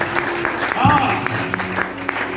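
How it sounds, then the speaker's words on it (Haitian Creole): Church congregation applauding during a sermon, rhythmic clapping under a loud, continuous preaching voice, with a brief vocal exclamation near the middle. "On applaudit pour ça"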